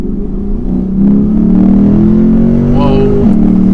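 A car engine in race mode revs and pulls hard, its low tone climbing steadily and loud close-up, with a brief dip near the end and a voice speaking over it.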